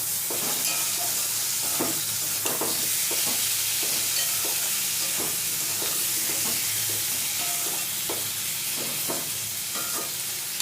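Onion, tomato and spices fry together for a jackfruit curry, with a continuous sizzle broken by repeated rhythmic scrapes and taps of a spatula stirring in the pan, close and steady.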